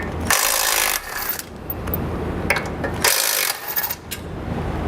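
Bolts being removed from the bumper beam of a 2018 Jeep Cherokee, with two loud, sustained whirring bursts of a power tool up close over a steady background hum.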